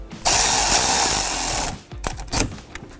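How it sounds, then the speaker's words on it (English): A power tool, likely a drill or driver, whirs loudly and steadily for about a second and a half as a terminal nut is run down onto a post while installing Ford Bronco CREE LED hood lights, then a few clicks and handling noises follow. "take our nut and tighten it right back down"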